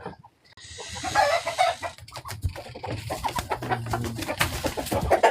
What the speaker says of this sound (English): It's our camper chicken coop.